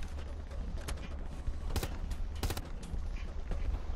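Scattered gunshots crack from a distance in the World War II shooter Hell Let Loose at Utah Beach, a few sharp separate reports rising over a steady rumble of battle.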